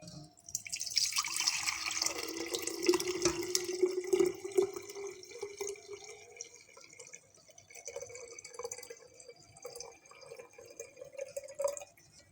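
Cooled homemade kidney-stone remedy liquid is strained into a bottle or jug, a close pouring trickle that settles into drips and faint splashes, with no talk.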